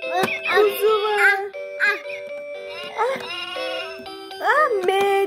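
A lamb bleats repeatedly in wavering, high-pitched cries, close and loud, with short pauses between calls.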